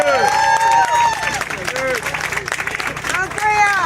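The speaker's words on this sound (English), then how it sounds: "let's give them another round of applause" Crowd clapping and cheering for cancer survivors at an outdoor cancer awareness walk in Rosedale, Queens, modest applause with voices and chatter over it.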